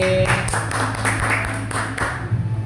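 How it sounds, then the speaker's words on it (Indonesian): Students in a classroom applaud a student group, a dense patter of claps running steadily throughout under a low electrical hum. "Beri tepuk tangan dulu untuk kelompok pelangi."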